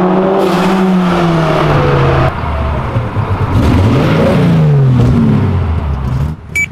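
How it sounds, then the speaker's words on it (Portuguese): A powerful 450-horsepower turbocharged Opala engine revs hard and climbs through rising, sweeping pitches, loud and close, with a brief dip before surging again. "acelerando tudo num eclipse de 450 cavalos"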